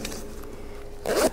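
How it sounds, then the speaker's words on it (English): Zipper being pulled on the fabric dust collection bag of a power sander, one quick close rasp near the end after a quiet moment, with no talking. "It has a zipper on the back,"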